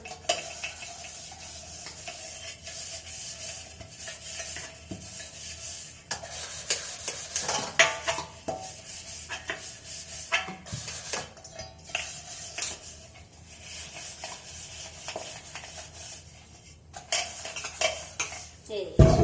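A milk pot being scrubbed clean by hand at a sink, with steady close scraping and rubbing plus the odd metallic clink of the vessel, continuing without speech for about twenty seconds.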